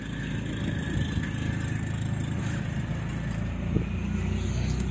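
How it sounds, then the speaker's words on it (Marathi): An auto rickshaw engine drones steadily from inside the cab during a ride through streets amid Ganpati festival visits, a constant mid-pitched hum with faint road noise and no clear talk. "यांच्या रिक्षातून आम्ही चाललो आहोत."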